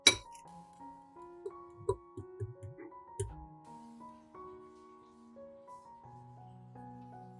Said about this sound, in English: Mix the garlic with the mashed banana.